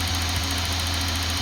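Datsun 280ZX turbo engine idling after a base timing adjustment, a steady close rumble with a low throbbing pulse and continuous mechanical whine, loud and alone without voices.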